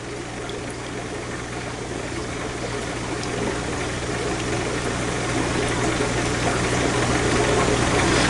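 Aquarium siphon tube vacuuming sand substrate in a tank with driftwood, a steady close rushing and gurgling flow of water that stays constant and grows slightly louder throughout.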